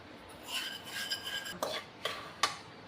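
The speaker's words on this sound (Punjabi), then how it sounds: "ਪਹਿਲਾਂ ਜੀ ਆਪਾਂ ਚੀਨੀ ਨੂੰ ਭੁੰਨ ਲਾਂਗੇ ਥੋੜਾ ਜਿਹਾ" Sugar roasting in a pan for barfi, a soft scraping stir with a few sharper clicks of a spoon against the pan, faint and close, no voices.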